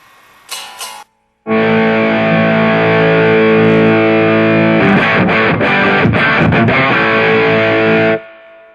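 A VHT Pittbull guitar amplifier roars with heavily distorted electric guitar chords, sustained loud and alone for several seconds during a sound check, with brief choppy stabs in the middle and a quick cutoff at the end.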